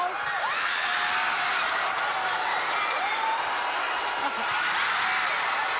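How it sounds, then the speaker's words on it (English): A volleyball crowd roars and cheers continuously at a league match, a dense loud wall of voices with whoops rising through it. "And listen to this crowd roar!"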